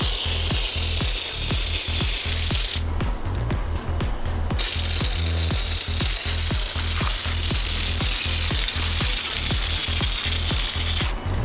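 An IK pump foamer sprays foam onto brake-dusty car wheels coated with Diamond Pro Tech, giving a loud, continuous close hiss with a steady rhythmic clicking pulse and a brief pause in the spray partway through.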